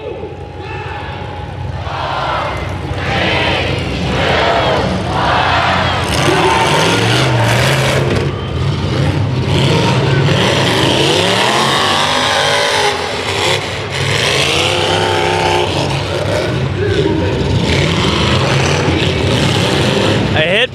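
Demolition derby cars at the 2013 L.A. County Fair rev loudly and slam into each other, a dense continuous roar of engines with crowd noise and an announcer talking over it throughout.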